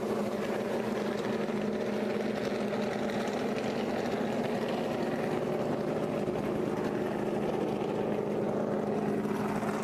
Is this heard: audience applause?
no